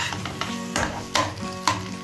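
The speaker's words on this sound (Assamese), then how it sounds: "দি এইখিনি ধুনীয়াকৈ মছলাখিনি লাগি যোৱাকৈ মই ভাজি থাকিম" Potatoes fry with spices in a pan, giving a steady, close sizzle broken by several louder scrapes and clacks as they are stirred, with no talking.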